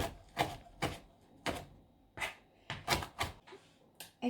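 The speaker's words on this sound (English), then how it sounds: "And start chopping." Knife chopping food on a kitchen board, about a dozen sharp, irregular thwacks, close and clear with quiet gaps between strikes.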